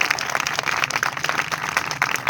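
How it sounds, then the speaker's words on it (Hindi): Audience applause and clapping at a church sermon, a dense, steady patter of many hands throughout. "जोरदार तालियां उस शाफी के लिए।"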